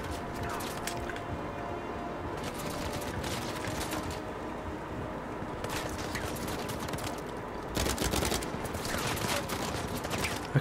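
Bursts of rapid gunfire from a mounted turret in the Uncharted 4 video game, steady dense firing that swells louder near the end, with someone talking over it.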